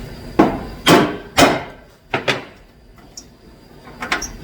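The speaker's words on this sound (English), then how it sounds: "peck on it with a hammer." Hammer pecking on a bolted part of an old work truck under repair: five or six sharp metallic blows, three loud evenly spaced strikes followed by a few lighter taps, close and without talk.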